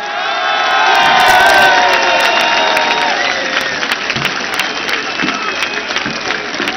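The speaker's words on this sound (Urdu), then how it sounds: "خان صاحب آپ نے جہاں تک میری آواز جاری ہے ہاتھ اٹھا کر تالیوں کی گونج بتائیے کتنا پیار کرتے ہیں آپ عمران خان سے." A large crowd at a political rally for Imran Khan cheers, whoops and applauds loudly. The roar swells early and then holds as a dense, steady wash of shouting and clapping.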